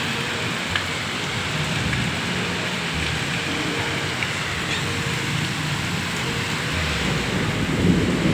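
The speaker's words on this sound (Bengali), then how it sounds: "পুরো সেই ঝড় আর সেই পানি।" Heavy rain pours steadily through a storm, a dense continuous roar with a low rumble of thunder underneath, loud and unbroken throughout.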